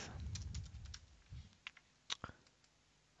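Quick taps on a computer keyboard, a short flurry of soft clicks followed by a few isolated keystrokes, quiet and close with no talking.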